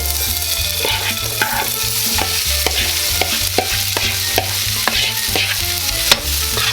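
Boiled potatoes and carrots fry in a pan with most of the oil removed, giving a loud, steady sizzle close by, broken by regular clacks and scrapes as they are stirred, with no talk.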